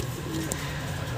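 A young pigeon squab coos softly, a low murmuring coo over a steady hum of background noise, close by with no talk.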